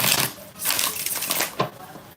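Tarot cards are shuffled in quick riffling bursts, close and crisp, with brief pauses between passes and no voice over them.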